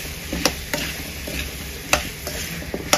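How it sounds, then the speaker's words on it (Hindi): Raw pumpkin and potato stirred in a cooking pan, a soft steady scrape with occasional sharper clicks of the spoon against the metal, under a faint sizzle, alone and close. "अभी मैं इसमें ऐड कर रही हूँ जी कद्दू और आलू जो हमने कच्चे से रख लिया था। मिक्स कर लेना है"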